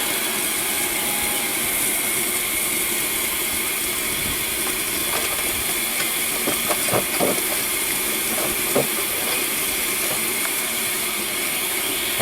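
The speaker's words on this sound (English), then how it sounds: "so we can put the engine's own blower on" LMS Black Five steam locomotive blower hissing loudly and continuously on the footplate, a broad steady roar of steam with faint metallic knocks and rattles underneath.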